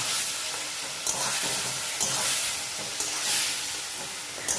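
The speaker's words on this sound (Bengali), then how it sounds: "তারপর ভালোভাবে এটাকে কড়াই কষিয়ে নিলাম।" Tomato mixture stir-fried in a wok sizzles steadily, with a spatula scraping the pan at regular intervals of about one second, close and fairly loud.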